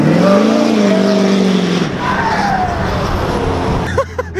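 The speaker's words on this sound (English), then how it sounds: "His turbo sounds like someone screaming just ah!" A car's turbo screams loudly at a car show, winding up with a rising, whining tone, then dropping off into a lower rumble as the vehicle passes.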